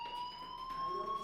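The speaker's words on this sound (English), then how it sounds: "do you hear that fire alarm? That means you should be outside." Fire alarm ringing through a school building in the video game Life Is Strange, a steady electronic tone held at constant pitch without a break, moderately loud and alone.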